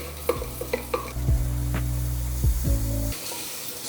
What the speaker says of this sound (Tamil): So லைட்டாக mushrooms போட்டு கொஞ்ச நேரம் நல்லா இது ஃப்ரை பண்ணிடலாம்.